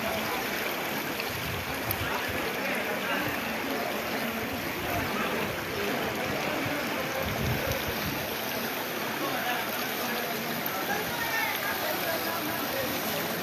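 A boat carries a family through floodwater over a submerged market road in Kanaighat. A continuous, loud rush of water and motor-like noise fills the whole stretch, with indistinct voices mixed in.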